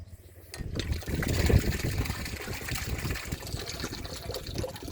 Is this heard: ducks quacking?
no